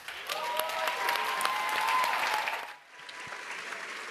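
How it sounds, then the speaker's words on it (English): A large audience applauds steadily at the World Food Forum closing event at UN FAO headquarters in Rome, with dense clapping that continues for over two seconds before thinning to a lighter, scattered patter. "Let's give them a round of applause."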